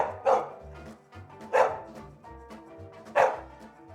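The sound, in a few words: dog barking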